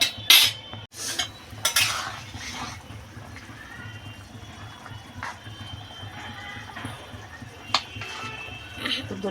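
A lid clanks down onto a metal pot of fish, potato and bean curry, a few sharp metallic knocks near the start, then a quiet simmer with faint kitchen clatter.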